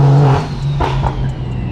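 A BMW E92 M3 engine revving, a loud close-up blip of throttle that rises sharply and then settles into a steady idle hum, with no talking.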